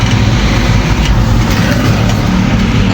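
A truck at a busy wholesale market in Belitung, about to leave for Jakarta; a steady, close low engine rumble and road noise run unbroken under the general market din.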